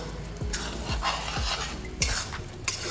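A spoon stirs chicken bharta with cashew and melon seed paste in a pan, soft scraping strokes over a faint sizzle, repeated several times at close range.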